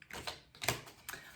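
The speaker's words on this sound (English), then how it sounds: "I was just loosening up those cards" Tarot cards being loosened and shuffled, giving a few soft papery riffles and flicks close by, brief bursts of rustle with short pauses between them.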